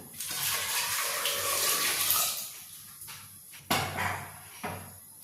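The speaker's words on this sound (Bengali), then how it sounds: "এবার আমি জলটা দিয়ে দিলাম" Water splashes and gushes into a pressure cooker on a kitchen stove, a steady pour for a few seconds followed by short bursts and clatter.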